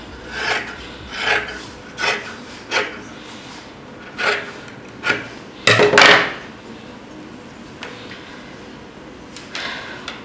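Scissors cut through blouse fabric in a series of short, rasping snips at close range, with a longer, louder crunching cut partway through and a few faint clicks afterward. No voices are heard.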